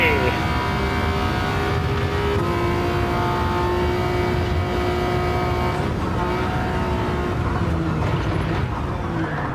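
A Toyota Yaris three-cylinder engine races loudly in Gran Turismo 7, holding a steady, high-pitched drone with some gear shifts, alone and close throughout.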